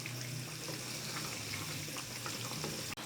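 Soft chicken koftas cook in a pot while being gently stirred, a continuous close hiss and bubbling simmer with faint stirring movement and one brief knock near the end.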